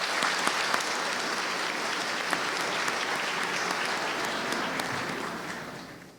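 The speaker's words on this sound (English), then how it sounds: "let's give a warm round of applause for our panelists" Audience at an intellectual property and brand forum applauds the panelists, a steady, even wash of clapping from a large room that holds for several seconds before fading at the close.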